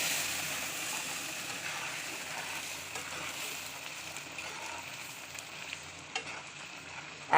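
A hot spice tempering poured into lentil dal gives a broad, hissing sizzle that slowly fades, close up, with a few small clinks near the end and no talking.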